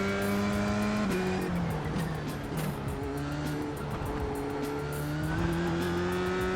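A race car in a sim racing game drives with a loud, continuous engine whine, its pitch sweeping up through gears and dropping under braking around corners, close and steady without speech.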